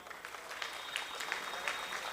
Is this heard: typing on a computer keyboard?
no